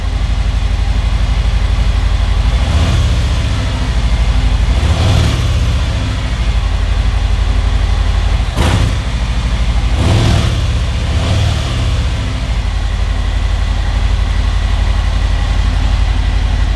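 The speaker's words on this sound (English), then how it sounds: "Let's give it a couple revs, why don't we?" A Harley-Davidson Fat Bob 114 with new exhaust pipes idles with a deep, loud rumble, and its engine is revved several times in bursts that rise and fall.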